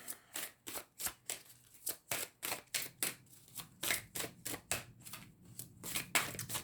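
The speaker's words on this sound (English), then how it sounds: "These are big cards, these are hard to shuffle." Large tarot cards shuffled by hand from the sides, giving a quick series of crisp riffling slaps in a steady rhythm, close and fairly quiet, with no voices over them.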